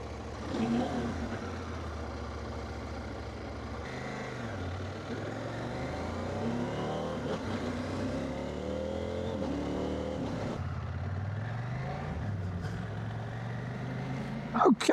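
A 2026 CF Moto 800MT ES motorcycle, built on a 700 chassis with a KTM 800 engine, runs steadily near the listener, its engine note rising and falling through gear changes over about fifteen seconds, with a brief louder burst at the end.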